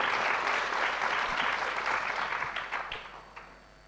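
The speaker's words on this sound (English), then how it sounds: "Please give them a round of applause for their first contributions." Conference audience applause at a European skills anniversary event, a dense, even round of clapping that holds steady and then thins out and fades near the end.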